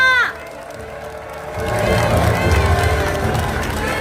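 A large crowd at a Lee Jae-myung political rally in the Busan–Gyeongnam region cheers and claps loudly, building after a brief quieter moment, with shouts mixed into the roar.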